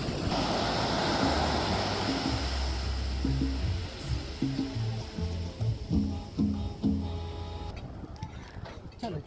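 Ocean waves surge near a boat off Culebrita, Puerto Rico, a loud rushing wash that fades into choppier splashes, with people talking and a low engine-like hum underneath.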